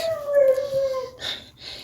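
A sad puppy whimpers in a long, thin, drawn-out whine that slowly falls in pitch, followed by a couple of shorter, higher yelps, close by in a quiet kitchen.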